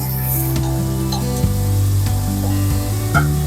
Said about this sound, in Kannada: ಉಳ್ಳಿಬೇಳೆ ಪೇಸ್ಟ್ ಚೆನ್ನಾಗಿ ಫ್ರೈ ಆಗಬೇಕು